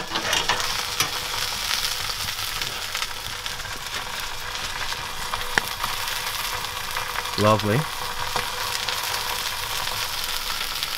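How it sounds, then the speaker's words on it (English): Food frying over a campfire at a winter camp gives a continuous crackling sizzle throughout, with a few scattered pops and a brief spoken word partway through. "Feed still sizzling away."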